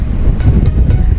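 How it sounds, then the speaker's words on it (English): Heavy wind buffeting a microphone at a beach, a loud continuous low rumble with gusty surges throughout. "It's really windy."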